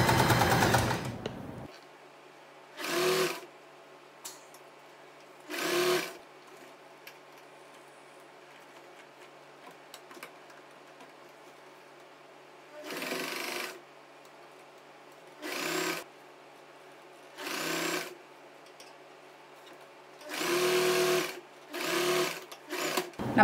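A sewing machine stitches a churidar sleeve in short bursts of rapid mechanical whirring, around eight runs separated by quiet pauses. It is close and clear, with a brief sound at the very start.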